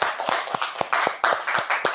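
A group clapping hands in a classroom coaching session, loud and close, a rhythmic series of sharp claps falling into a steady beat over two seconds.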